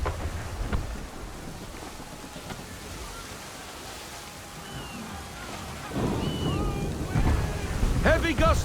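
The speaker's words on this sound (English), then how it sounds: "Heavy gusts, Captain." Wind gusting over open sea in Assassin's Creed 3, a steady roaring rush with a stronger surge in the last few seconds, heard alongside other game sounds.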